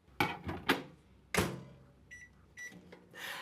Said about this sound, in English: they're only gonna go into the microwave for a quick 45 seconds